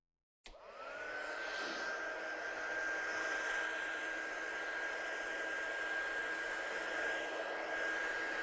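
Heat tool switching on and blowing steadily to dry ink on paper, a close continuous whooshing roar with a faint high whine that holds for the rest of the stretch.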